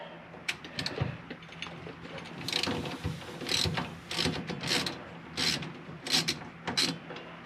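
A socket wrench ratchets on driveline bolts during rear differential work, with several short bursts of close, crisp clicking separated by brief pauses and no talking.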